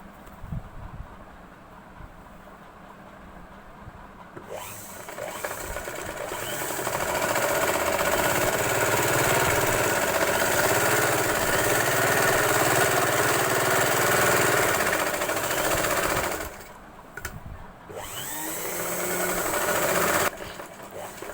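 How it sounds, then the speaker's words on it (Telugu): A sewing machine stitches a red saree-fabric boat neck blouse, running in a steady close mechanical whirr for most of the stretch, with brief stops and restarts and no talk. "కుట్టేసాక ఇప్పుడు ఇది అనేది స్టిచ్ చేసుకుందాం"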